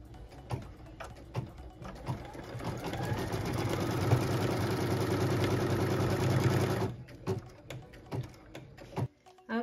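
A sewing machine stitches a quilt block piece in one sustained run of fast mechanical hum, preceded and followed by soft clicks and handling taps, fairly quiet and close.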